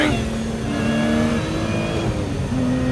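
Lotus Emira sports car engine revs with a clear whining note that climbs, drops as it shifts, then rises again, close and fairly loud, with no talk over it.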